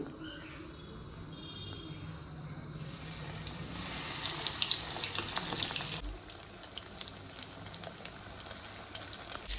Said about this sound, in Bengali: এবার একটা একটা করে চিংড়ি মাছ আমি ভেজে নেব।